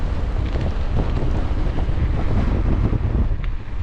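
Gusty wind buffets an outdoor microphone in the Peak District at night, a constant heavy rumbling roar with shifting gust surges throughout and no voices.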